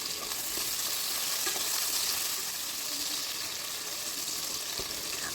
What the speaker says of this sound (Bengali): এখন এই গরম তেলের মধ্যে দিয়ে দেব আলুগুলো প্রথমে আলুগুলো একেবারে লাল করে ভেজে নিতে হবে